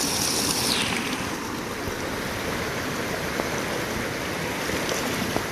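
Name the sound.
water flowing from a waterfall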